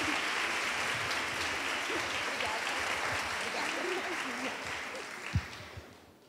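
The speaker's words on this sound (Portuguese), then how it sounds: "Eu queria que vocês recebessem aí, com muita honra, com muitos aplausos" A church congregation applauding a woman pastor at a women's meeting, a dense, sustained round of clapping that holds steady and gradually fades near the end, with faint voices mixed in.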